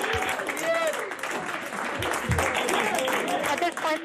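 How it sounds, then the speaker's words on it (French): A mission control team stands and applauds after the Perseverance rover's Mars landing, steady clapping and cheering from a room of people, with a commentator talking over it. "Ça y est, ils sont debout, ils applaudissent."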